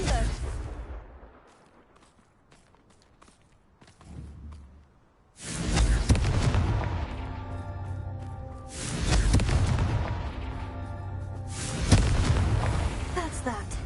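Confringo blasting spell explosions in the Hogwarts Legacy video game: after a quiet stretch, three loud booming blasts hit in sequence, each trailing off into a rumbling decay.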